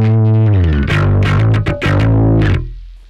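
Bass guitar played through a pedalboard with the drive pedal engaged, giving a gritty, distorted tone: a few loud sustained notes with sliding pitch and percussive plucks, ringing out alone for about three seconds.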